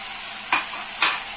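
Arrachera beef strips sizzling in a pot, a constant hiss of frying with two brief stirring swishes, close and alone.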